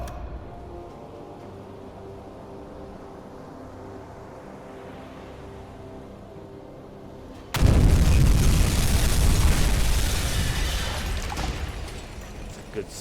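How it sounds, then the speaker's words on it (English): A torpedo strikes a ship in a U-boat video game: a sudden loud, deep explosion bursts in midway over a quiet low engine hum, then a sustained roaring rumble slowly fades. "Good solid hit on the NA1."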